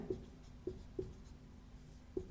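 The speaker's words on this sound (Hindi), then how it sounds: "तो यहाँ लिख देंगे" Handwriting with a pen during a maths lesson on irrational numbers, four distinct taps and short strokes spaced irregularly, close and quiet with no talk over them.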